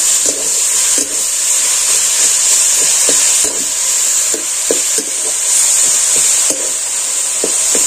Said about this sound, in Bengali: এবার এটাকে আমি নেড়ে চেড়ে পিঠা তৈরি করে নেব